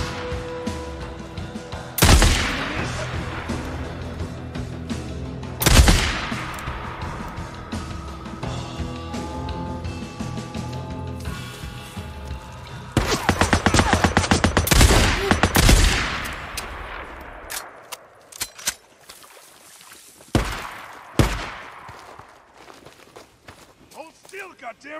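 Gunfire trades back and forth in the Days Gone video game, with sharp loud shots bursting out at intervals among bouts of dense firing, while voices shout and talk throughout.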